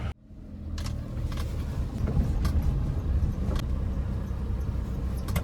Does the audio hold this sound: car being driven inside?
yes